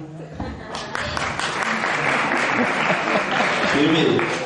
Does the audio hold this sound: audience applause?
yes